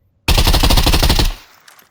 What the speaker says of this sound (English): That is full auto.